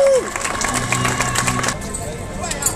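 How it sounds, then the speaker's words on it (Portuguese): A crowd at the finish area of a 15 km street running race applauds and cheers a runner named Marquinhos, scattered clapping and crowd noise mixing with a loud announcer's voice that fades partway through. "o Marquinhos recebendo a salva de palmas da galera"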